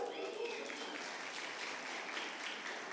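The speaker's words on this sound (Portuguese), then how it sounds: "Vocês vão aplaudir para todo mundo" A church congregation applauds steadily, a dense wash of clapping from many hands that holds at an even level throughout.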